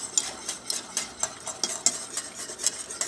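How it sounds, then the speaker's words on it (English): A whisk beats scalded milk into a roux in a pan over medium heat, a quick steady run of light clicking, scraping strokes about four to five per second, close and clear with no voices. "put this scalded milk in our roux that we made"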